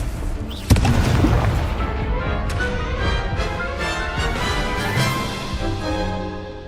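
In Hogwarts Legacy, an Incendio fire spell bursts with a sharp boom, then a sustained roaring, crackling blaze that holds loud for several seconds before easing off.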